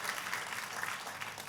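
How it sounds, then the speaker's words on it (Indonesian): A congregation at a church sermon applauds, a moderately distant, continuous patter of many hands clapping with a few louder claps rising out of the wash. "Kasih tepuk tangannya pula yang paling meriah buat Tuhan"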